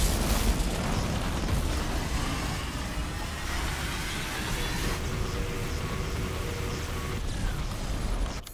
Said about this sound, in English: This is the flashbang.